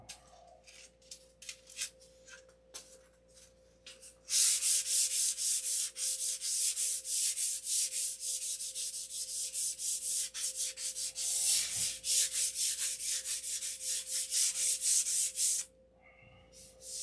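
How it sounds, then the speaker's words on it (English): Sandpaper of 600 grit rubs back and forth over a smooth surface in steady, rapid strokes, loud and close for a long stretch after a few lighter scrapes at the start. "So I got these all sanded with 600."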